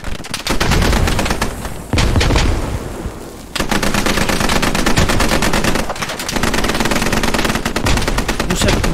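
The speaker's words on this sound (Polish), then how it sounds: "You will be stressed and this is a live fire exercise." Dense automatic gunfire from a live fire exercise in the military shooter game Squad, with rapid bursts that run almost without pause, loud and close, broken by two brief lulls.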